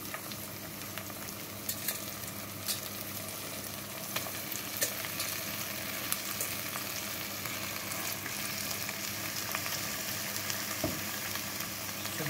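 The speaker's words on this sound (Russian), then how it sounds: "Все, с открытой крышкой пока жарю, пока не испарится вода." Chicken sizzles and fries steadily in an open pan with onions, a continuous crackling hiss with occasional louder pops and stirring scrapes, close up and without any talking.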